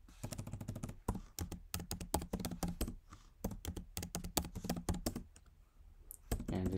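Keys on a computer keyboard clatter in quick, uneven bursts as a password is typed, close and crisp, with brief pauses between runs of keystrokes.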